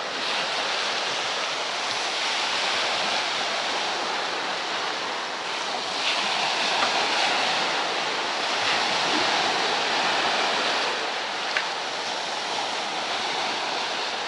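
Waves breaking on a beach along the Iranian coast, a continuous loud roar of surf with steady hiss and rolling wash, alone with no voices.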